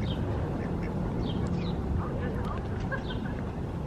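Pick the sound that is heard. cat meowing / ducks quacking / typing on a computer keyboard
ducks quacking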